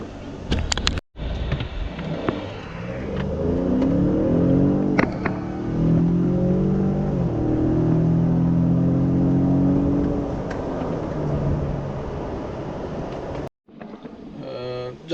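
A 2019 Ram Rebel or Ford Raptor pickup truck accelerates hard, engine pitch climbing through several gear changes with wind and road noise, heard from fairly close for most of the run.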